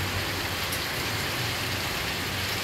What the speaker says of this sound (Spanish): allá también ya está lloviendo